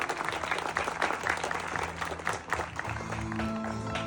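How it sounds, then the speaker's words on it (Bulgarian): Guests applaud the groom at an outdoor wedding ceremony in Svilengrad, with steady clapping throughout and music or voices rising underneath toward the end. "Аплодисменти за младоженеца."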